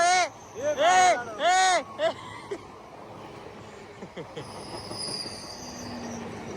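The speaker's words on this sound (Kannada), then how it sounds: "ಭಾಳ ಲಂಬದಪ್ಪ ಟ್ರೈನ್" A long train passes by, a broad rolling rumble with faint wheel squeals and clatter that follows voices talking over the opening seconds.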